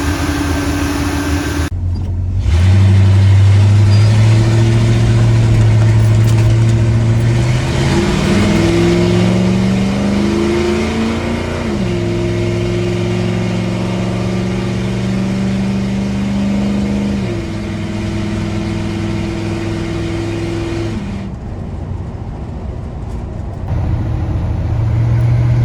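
A 1974 Chevy K20 truck drives along, its engine roaring loud and close as it revs up through gears, settling into a steady cruising drone before easing off near the end.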